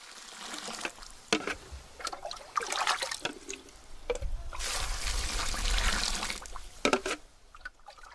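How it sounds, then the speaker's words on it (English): Salt brine poured over soybeans for soy sauce fermentation, heard as irregular splashing and trickling pours in several bursts, with a longer, fuller gush midway and softer dribbles between, close and fairly quiet. "Salt water is poured over"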